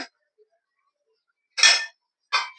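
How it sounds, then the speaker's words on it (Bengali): A metal lid comes off a cooking pot of potato sabzi on the stove, giving two short clinking clatters after a moment of quiet, close and crisp with no talk. "এবার ঢাকাটা খুলে দেখে নেব"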